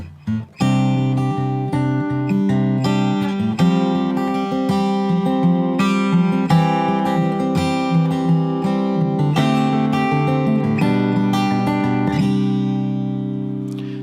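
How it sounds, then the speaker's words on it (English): Fingerstyle guitar plays a chord progression in C, with plucked chords ringing steadily and sustained bass notes beneath, close and clear with no talking. "Let's do this one fingerstyle, see what that sounds like."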